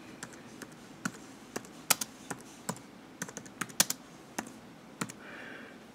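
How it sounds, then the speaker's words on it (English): Crisp keystrokes on a MacBook Pro keyboard tap out a terminal command, irregular single clicks close to the microphone in a quiet setting. "Open terminal, type in sudo"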